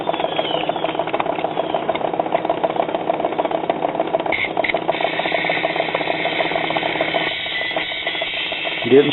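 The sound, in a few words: needle talk from 1952 Silvertone record player cartridge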